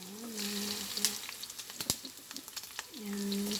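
Chopped onion and garlic sizzle and fry steadily in a hot pan for a Filipino sauté, with crackling pops and a brief clatter of stirring, while a voice speaks briefly under the frying.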